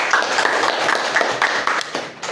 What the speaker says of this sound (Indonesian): Terima kasih untuk Cahyo. Tepuk tangan semuanya.